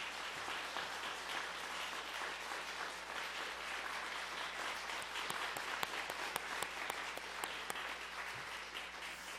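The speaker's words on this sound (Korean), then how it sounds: "여러분들 뜨거운 그 격려의 박수를 해주셨으면 감사하겠습니다" A church congregation at a pastor's installation thanksgiving service claps warmly and continuously, a soft, even, distant-sounding applause throughout with a few sharper individual claps standing out.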